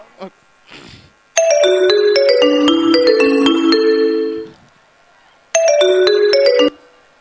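A mobile phone plays a bright electronic melodic ringtone, loud and close, during a stage comedy show at Hampi Utsava, stopping briefly then starting again after a short pause.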